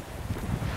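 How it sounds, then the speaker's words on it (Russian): Strong wind by the ocean in Gloucester, Massachusetts, on a cold day buffets the microphone, a dense low rumbling roar with gusty surges and no voices. "близко на море, ветер безумный сильный."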